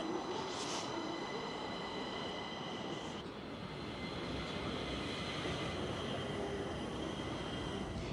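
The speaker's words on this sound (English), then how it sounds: "I'm on my next train now" A Stockholm Metro train runs steadily, heard from inside the carriage as a continuous broadband rumble and wheel roar with faint tonal whine, with no speech.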